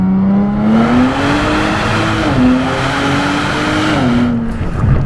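A twin-turbo V6 Nissan Z revs steadily upward as it accelerates hard from 30 mph, a loud continuous rising drone that dips briefly at a gear change before climbing again.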